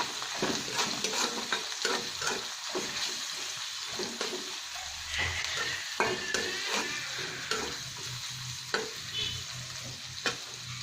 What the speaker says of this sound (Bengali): আমার পেঁয়াজ কুচি ভাজা হয়ে গেছে। এবার আমি ভালো করে নেড়ে ছেড়ে নেব সবজিটা।